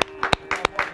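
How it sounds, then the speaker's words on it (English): A few people in a small TV studio clap briefly, with sparse, irregular claps close by and no crowd behind them. "we have to applaud for ourselves right now"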